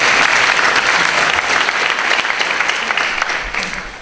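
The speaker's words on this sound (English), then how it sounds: "So applause to you." A crowd applauding together, with full, even clapping sustained at a loud level for about four seconds before gradually tapering off slightly, and no voices over it.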